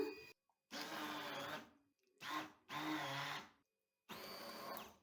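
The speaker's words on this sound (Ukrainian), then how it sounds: "Все пробиваємо блендером." A handheld blender purees peaches with vanilla pudding powder in three loud, steady bursts of whirring motor noise separated by short silent pauses.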